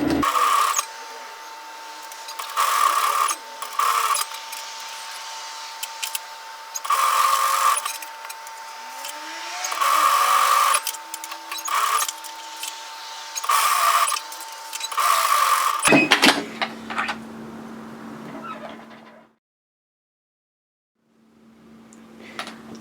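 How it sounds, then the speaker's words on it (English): A sewing machine runs in repeated bursts, tack stitching a hoodie's lining edge to the main fabric about 3 mm from the edge, with a steady motor hum between stitching runs before stopping; quieter handling noise follows. "I'm going to tack stitch my lining edge to the edge of my main fabric."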